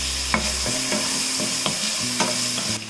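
Kashmiri chilli and chopped tomato frying in a pan, stirred with quick scraping strokes over an even, loud sizzle, close up with no speech.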